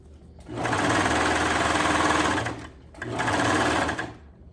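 A sewing machine (apparently a serger with a blade) stitches an elastic waistband in two loud, steady runs with a brief pause between them, close and clear with no talking.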